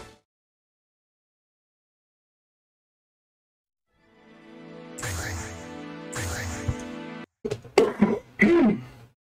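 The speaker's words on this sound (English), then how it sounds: "Sorry, I'm coughing a lot." A man clears his throat with a long rasping rumble, then gives several short harsh coughs in quick succession, heard close and alone.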